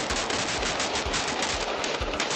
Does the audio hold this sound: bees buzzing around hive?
no